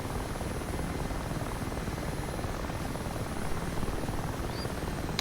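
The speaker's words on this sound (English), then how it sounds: "We want some more of the helicopters flying around rather than just us." An Mi-8 Hip helicopter flies in the DCS World simulator, a steady, continuous rotor and engine drone with a dense, even texture and no talking.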